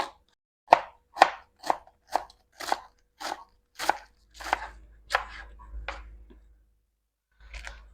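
Cabbage being chopped with a knife on a board in a home kitchen, about ten crisp, evenly spaced chops close up, followed by a low rumble and a few softer rustles, with no talking.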